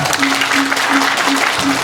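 Dense, continuous applause from an audience, steady throughout, with a faint recurring tone and murmuring voices underneath.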